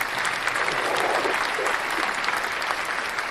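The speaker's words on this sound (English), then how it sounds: "Round of applause." Dense applause from a crowd, steady and loud throughout, a continuous wash of clapping hands.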